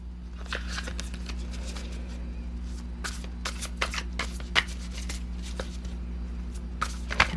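Tarot cards being shuffled by hand, a steady run of crisp riffling snaps and flicks over a low steady hum, with no talking.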